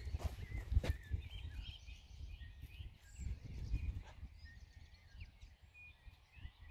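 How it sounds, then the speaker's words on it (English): Evening birdsong in the Nelson and Tasman area of New Zealand, native birds mixed with introduced blackbird and thrush, faint scattered chirps and song phrases over low rumbling background noise. "you can hear the introduced species like the blackbird and the thrush mixing up together"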